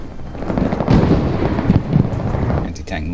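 Loud, booming explosion from an anti-tank mine in the World War II shooter Hell Let Loose, a sustained rumbling blast with crackling debris, ending as a voice starts talking.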